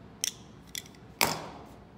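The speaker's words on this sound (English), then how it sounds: "This is a ratcheting PVC cutter." Ratcheting PVC cutter handled as a hand tool, giving three short clicking, clacking bursts close by, the last one loudest with a brief rasping tail, and a faint click near the end.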